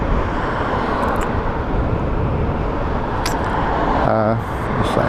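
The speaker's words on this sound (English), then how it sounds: "car on the outside trying to overtake me" A car overtakes an electric motorcycle on a UK road, heard as loud, constant wind buffeting and road roar from the moving bike with a passing vehicle's rush blended in; a rider talks briefly.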